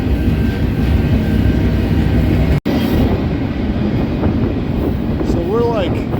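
A loud, continuous rumble of a moving passenger train on the run from Denver to Cheyenne, heard from near the head end, with a brief dropout midway and a faint whine toward the end.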